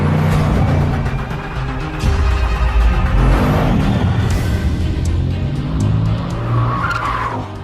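A Bugatti Chiron prototype drives at speed on the Nardo circuit in Italy, a loud, continuous roar of engine and tyre noise with rising whines and a squeal near the end.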